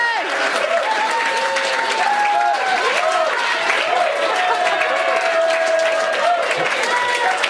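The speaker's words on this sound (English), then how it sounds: "A round of applause" Audience applause at an outdoor family reunion, loud sustained clapping with some cheering, while whistling tones and voices carry over the crowd throughout.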